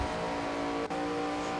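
A NASCAR stock car in the NASCAR 25 video game on the Michigan track drones steadily at high engine speed, a continuous loud tonal roar with one brief dip midway.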